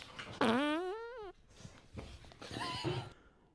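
A comic seven-tone fart sequence: loud, buzzy blasts that swoop up and down in pitch, the first one long and sustained, followed by softer, wavering tonal toots.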